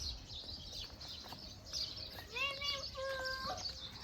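Birds chirp and whistle from a bird cage at a farmhouse, a few bright calls emerging midway through a noisy outdoor background with people talking and children's voices nearby.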